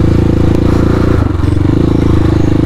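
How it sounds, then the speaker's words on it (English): Hawk 250 dirt bike ridden along a wooded trail: a loud, steady, close engine drone with rhythmic chugging and a brief dip in pitch partway through as the throttle shifts. "no, I'm on my dirt bike"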